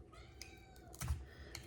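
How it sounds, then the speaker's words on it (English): A new pet kitten meows for attention after being fed, a couple of faint, high cries over soft clicking and kitchen background noise. "And that's my new little kitty. If you can hear her meowing here."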